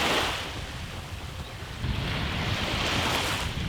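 Ocean waves wash onto a beach with a steady roar, and the surge swells louder midway. Heavy wind noise buffets the microphone and no voices are heard.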